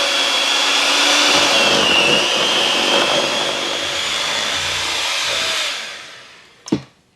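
An electric mixer whirs steadily through chocolate cake batter, a loud, close, continuous motor drone that winds down near the end, followed by a single sharp knock.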